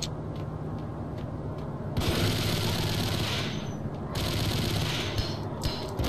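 Rapid SMG gunfire in the video game Max Payne, loud continuous bursts of automatic shots in two long stretches with brief quieter gaps, no talking.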